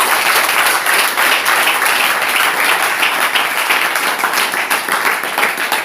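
A church congregation applauds for the Lord, a loud, continuous wash of many hands clapping for about six seconds, with no voices over it.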